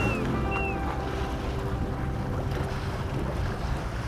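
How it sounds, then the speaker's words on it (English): Steady wind rushing over a microphone while sailing a boat on a lake, loud and constant with a broad roar of air and water movement, no talking. "No, this is perfect wind."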